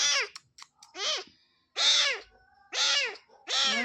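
A newly adopted white house cat meows five times in a row, loud and close, each cry distinct with short pauses between, no talking underneath.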